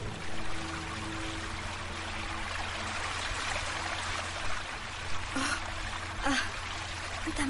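River water flows steadily and broadband across the whole span, a constant rushing stream at a riverbank where girls wash and bathe, with a few brief splashy surges near the end.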